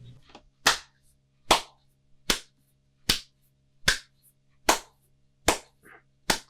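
Sharp hand claps ring out one at a time in a steady, evenly spaced rhythm, eight crisp, loud claps close by against a quiet background.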